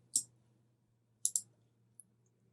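Computer mouse clicks while editing a website: one sharp click, then a quick double click a second later, with a faint tick after, close and quiet over a low hum.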